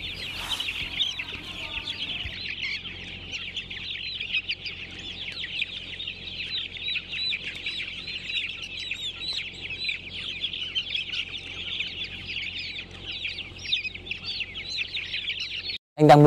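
A large poultry house flock of around 10,000 chickens sick with CRD and E. coli, producing a dense, continuous chorus of overlapping clucks and chirps at steady loudness, ending with a sudden loud knock.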